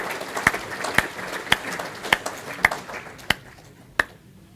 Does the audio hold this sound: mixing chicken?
no